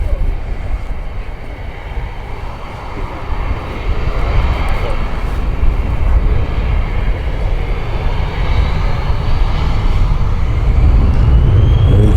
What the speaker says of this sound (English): That's a nice little jet